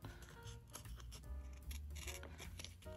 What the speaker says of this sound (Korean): 그냥 직선으로 가위로 오려서 붙이고